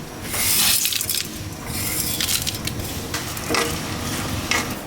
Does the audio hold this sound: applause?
no